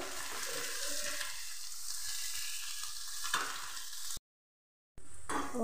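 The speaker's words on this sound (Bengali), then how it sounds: "তেলে ভেজে নিচ্ছি। এভাবে তেলে দিয়ে ভেজে নিতে হবে।" Bitter gourd fries in hot oil, making a steady, close, hissing sizzle with a few faint stirring sounds. It cuts to silence near the end and then briefly returns.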